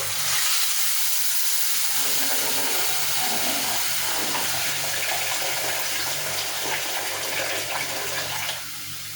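Water poured over rice in a pot for Egyptian rice, a steady hissing gush that runs for several seconds before cutting off, with no talk.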